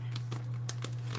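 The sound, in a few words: crinkling large plastic flour bag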